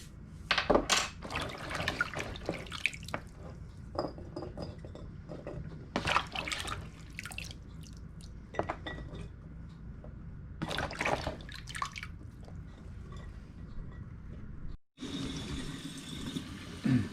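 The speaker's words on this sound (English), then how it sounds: "She tops them off with hot water." Hot water is poured from a kettle or pot into quart canning jars packed with green beans, giving intermittent splashing and filling gurgles with quiet gaps between pours, close by.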